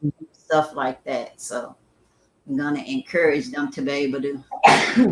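A single sharp sneeze bursts out near the end of a stretch of conversational talk, loud and close, following a speaker's steady voice.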